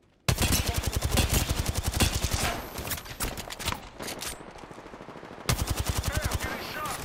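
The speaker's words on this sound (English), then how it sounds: "Hey, I'm getting shot!" Rapid automatic gunfire bursts from a battle royale shooter match, loud and dense, with a brief lull mid-clip before another sustained burst of shots close by.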